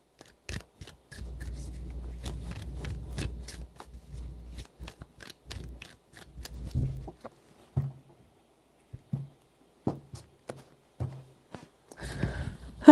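Tarot cards shuffled by hand indoors, a long riffling stretch followed by scattered sharp taps and snaps as the deck is squared, close and fairly quiet.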